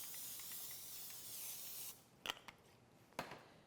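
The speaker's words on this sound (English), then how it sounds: "I'm going to spray the grill pan with a little bit of nonstick spray" Two short hissing bursts of nonstick aerosol cooking spray onto a grill pan, close by, following a stretch of steady broadband hiss.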